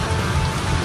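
Heavy rain pours down in the cold Cameron Highlands, a dense, loud, unbroken roar of water hitting surfaces throughout this short moment.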